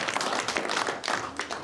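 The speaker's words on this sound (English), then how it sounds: "Round of applause for Drew as well." Brief burst of clapping from a small crowd at a Packers Fan Hall of Fame induction, scattered claps blending into short applause.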